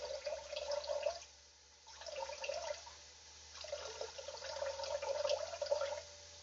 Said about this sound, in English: Some more chicken broth. Pour this in.